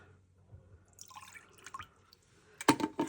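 Last drops of water dripping while a container is drained before watercolor painting, a few soft scattered drips followed by a louder cluster of splashy drops near the end.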